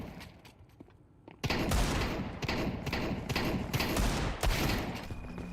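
Sustained bursts of rapid gunfire from a horror mod video game, loud and dense with repeated thumping shots after a quieter opening second.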